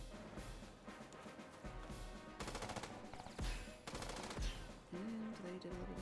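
Enemy troops firing in the video game Advance Wars, a string of rapid machine-gun bursts and heavy booms over game music, fairly loud and close, with no talking.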